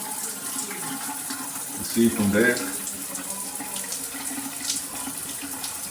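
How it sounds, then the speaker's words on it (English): Water leaks and runs from a Cobbe 12-inch all-metal 3-way rain shower head, a steady close hiss throughout, with a voice speaking briefly in the middle. "the shower head. It's leaking."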